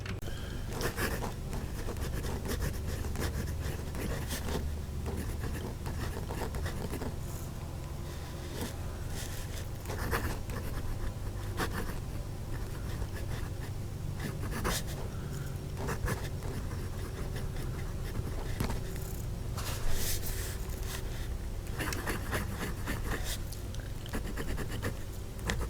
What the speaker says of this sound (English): put the mic next to the paper and hear this nib write.